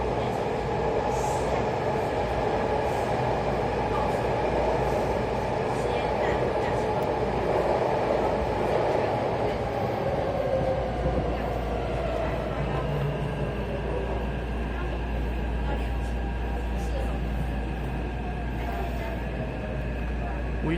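A Taipei Metro 381-type train, a soft-retrofitted set, rumbles in toward Minquan West Road station, with a steady loud low hum and track noise throughout, fading slightly toward the end.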